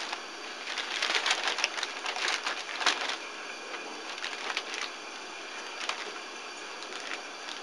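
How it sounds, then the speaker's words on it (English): A sterile suction kit package is opened in a respiratory care setting, giving quiet crinkling and tearing of packaging in scattered short bursts over a faint steady background hiss. "Opens the suction kit using sterile technique."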